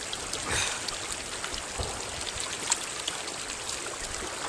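A hill stream flows on steadily, a soft, continuous watery hiss with small trickles and splashes, faint and close.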